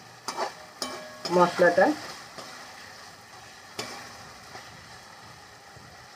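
Carrots frying in oil in a pan with stirring, giving a brief cluster of scraping, sizzling clatter near the start, then quieter faint crackle; a few words are spoken over it.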